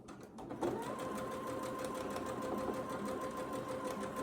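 A sewing machine runs steadily while stitching a postage stamp quilt, a close, continuous mechanical whir with a fast even rhythm that starts after a brief pause and continues unbroken.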